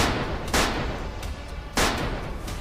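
Two loud gunshots ring out alone about a second apart in a Filipino horror story, each a sharp blast with a short ringing tail over a steady low rumble.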